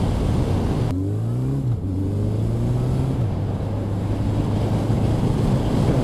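A Honda CB1100 RS motorcycle from 2017 cruising in fourth gear at about 60 km/h, its steady low engine drone pulling from low revs with a pitch shift partway through, heavily buried under constant roaring wind noise.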